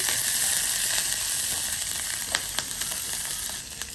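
Onions and two green chillies fry in hot oil in a pan. A steady, bright sizzle carries throughout, with a few light stirring taps near the end.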